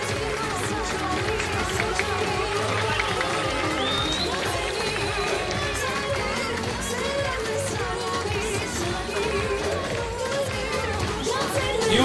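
An audience at a school dance festival applauds steadily for the dancers, a sustained wash of clapping with crowd noise and some shouts mixed in, staying loud throughout.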